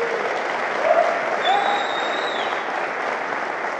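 Conference audience at the DEFCON 19 hacker convention claps steadily throughout, a broad sustained wash of many hands at moderate distance, with a couple of faint whistles and voices mixed in.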